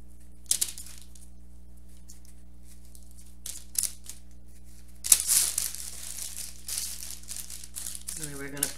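Dried bread pieces are broken by hand while preparing food for Thanksgiving, giving close, crisp crackling and crumbling in scattered bursts that grow busier in the second half, over a quiet steady background hum.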